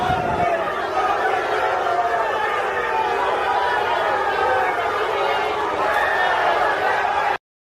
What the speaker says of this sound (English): That's them booing him as he's walking in.